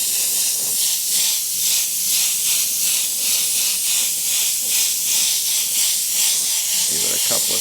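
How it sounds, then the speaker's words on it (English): A steady, even hiss of an airbrush spraying paint through a template runs without a break, loud and close, with no pauses. "Just spray a nice even coat on the negative part of that template."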